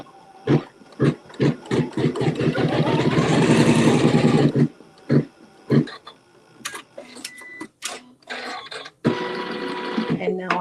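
A sewing machine stitches a quilt block seam in bursts of close, rapid mechanical chatter, one sustained run in the middle and shorter stop-start pulses around it, with someone speaking in between.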